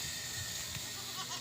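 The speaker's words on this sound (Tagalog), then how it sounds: "Ito yung ating mga kambing." Goats kept on a farm with a free-range play area let out a few faint, short bleats over a soft hissing background.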